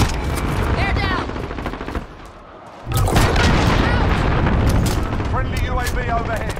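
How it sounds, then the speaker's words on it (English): Loud explosions and heavy gunfire from an allied cruise missile strike in the video game Call of Duty Modern Warfare, dense sustained blasts with a brief lull in the middle before the barrage resumes. "Allied cruise missile."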